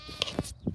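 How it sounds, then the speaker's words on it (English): Sheep on a farm bleat in a short burst, a couple of quick calls close by with faint farmyard noise behind. "A whole herd of shadow sheep."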